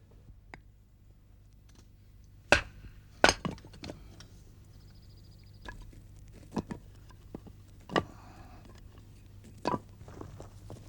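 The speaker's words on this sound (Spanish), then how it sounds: "Pascual Mayral fende o parte las piezas en dos mitades llamadas toros" Boxwood log pieces split into halves for carving spoons, sharp woody knocks and cracks spaced irregularly against a quiet workshop background, a few louder strikes standing out, with no voices.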